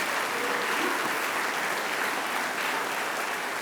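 An audience at a university hall of fame induction ceremony applauds in a dense, even round of clapping that holds steady throughout with no talking over it.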